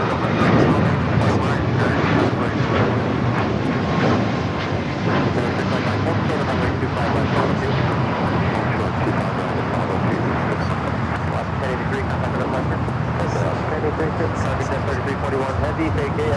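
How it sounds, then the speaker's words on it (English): An Alaska Airlines Boeing 737 MAX 9 takes off at LAX, a sustained loud jet-engine roar that stays steady throughout, with a voice talking over it. "That was Alaska Airlines Flight 1083 heading to Seattle, a 737 at MAX 9."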